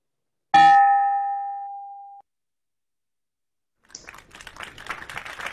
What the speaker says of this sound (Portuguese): faça tocar o nosso sino